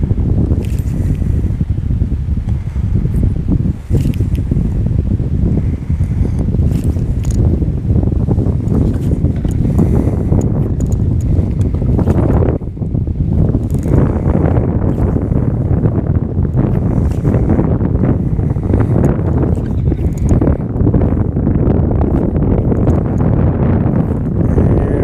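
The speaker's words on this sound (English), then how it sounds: "Past the golf course, and here comes the wind." Strong wind gusts roar steadily across a lake during drift fishing from a boat, heavy microphone buffeting masking everything else, loud and continuous with no talk.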